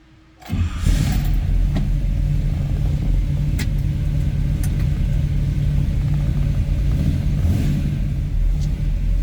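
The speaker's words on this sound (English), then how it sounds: "This car always starts like that every time I've turned the key. It just pops." A 1968 Chevrolet Nova engine cranks briefly and catches, then settles into a steady, loud, rumbling idle that runs on without a break.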